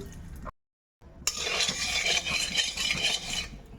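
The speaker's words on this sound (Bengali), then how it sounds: "নুনটা তেলের সাথে ভালো করে মিশিয়ে নিলাম" Salt is stirred into hot mustard oil in a wok, with a spatula scraping and clinking against the metal under a light sizzle, starting after a brief silent gap and continuing steadily.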